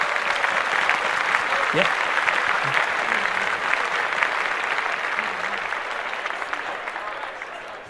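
A studio podcast crowd applauds steadily for Jay-Z's birthday, a dense, continuous clapping that runs the whole stretch, with a brief spoken word from a host over it.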